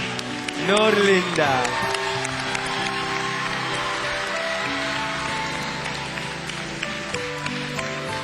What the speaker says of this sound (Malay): Tepukan untuk Linda.